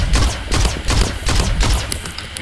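Rapid bursts of video game pistol fire, several loud shots spaced out in quick succession, punchy and close with no talking.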